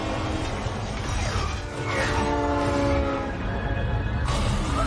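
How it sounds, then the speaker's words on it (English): A loud, rumbling train from The Mandalorian passes close by with metallic screeching and clanking, the noise sustained and heavy the whole time. "Oh god, a train!"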